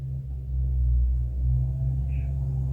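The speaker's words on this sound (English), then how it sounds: "Y'all hearing this car outside, right?" A car outside gives off a deep, steady low rumble that swells slightly and holds throughout, heard from indoors with no talking.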